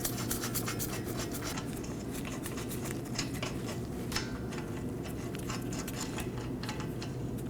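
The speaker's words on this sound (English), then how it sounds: "And install your lug nuts." Lug nuts being threaded by hand onto a Toyota Corolla front wheel, giving a quiet run of small metallic scrapes and ticks at close range over a low background hum.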